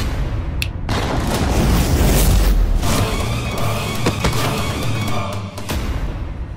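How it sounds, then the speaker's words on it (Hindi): A big explosion blast in a dramatic TV scene booms loudly with deep rumbling, followed by crackling bursts and scattered sharp impacts that fade over several seconds. "धमाका तो इतना बड़ा हुआ पर हुआ कुछ नहीं"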